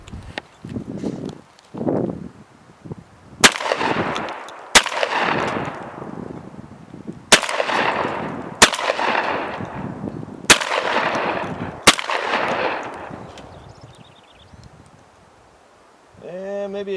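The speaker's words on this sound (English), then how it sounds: "This here is the makeshift range, and I'll give you a little test performance with the Mossberg 930 Jam Pro can do." A Mossberg 930 JM Pro shotgun fires birdshot at a makeshift outdoor range, six loud, sharp blasts spaced a second or two apart, each followed by a rolling echo, with low voices murmuring before the first shot.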